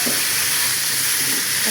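Leftover chicken marinade spice mix hits a hot pan and sizzles in a loud, continuous, even hiss, up close and alone.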